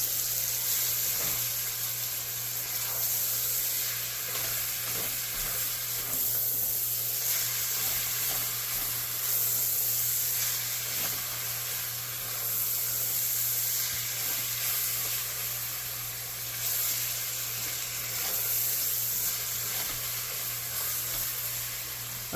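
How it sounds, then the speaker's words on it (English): Sausage sizzles steadily in a pot while seasonings are stirred in for Zuppa Toscana, a continuous close hiss of frying that holds even throughout with no voices. "So I'm going to go ahead and add in my seasonings. Just give this a quick stir."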